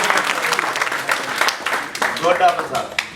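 Applause at a meeting, a steady spatter of clapping hands lasting the whole moment, fairly loud and close, with voices mixed in beneath it.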